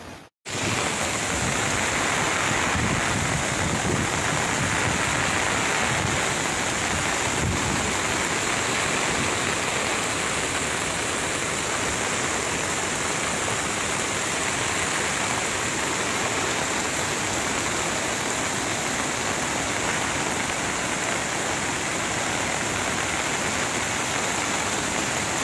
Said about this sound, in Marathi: काय पूर बावा